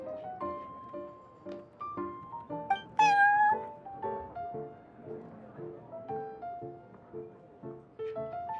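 A cat in Genshin Impact meows in a string of close, melodic calls. One sharper, drawn-out yowl stands out midway, with light game music under it.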